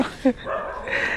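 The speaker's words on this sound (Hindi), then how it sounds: "कोई कुत्ता भौंक रहा है" A dog gives a brief yip somewhere outdoors, a short sharp sound among background voices.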